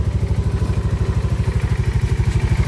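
An Easy Ride 150P FI motorcycle engine, fitted with a new Motolite battery, idles steadily up close, its quick even exhaust pulses thumping with a slight mechanical clatter.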